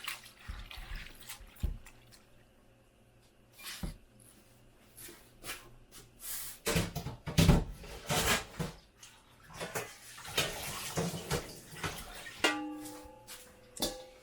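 Fatsia shoots being washed by hand in water for kimchi, with intermittent splashing, dripping and sloshing bursts close by, growing busier toward the end, no talking.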